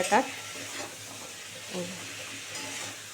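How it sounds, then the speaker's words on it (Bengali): Moringa drumsticks are sautéed and stirred in a pan for a rohu fish curry, giving a soft continuous sizzle with a sharp scrape of the spatula at the start and occasional stirring sounds. "সজনা ডাটাটা দিয়েও এক মিনিট কষাবো"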